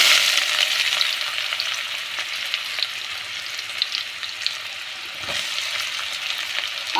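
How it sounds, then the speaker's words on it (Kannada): Mustard seeds and onions fry in hot oil for egg bhurji, giving a loud, dense, continuous sizzle that holds steady throughout, with no voices. "ಆಯಿಲ್ ಚೆನ್ನಾಗಿ ಕಾಯ್ದು ಅದಕ್ಕೆ ಕಾದ್ಮೇಲೆ ಸ್ವಲ್ಪ ಸಾಸಿವೆನ ಹಾಕ್ಕೊಳ್ಳಿ. ಸೊ ನಂತರ ಈರುಳ್ಳಿನ ಹಾಕ್ಕೊಳ್ಳಿ."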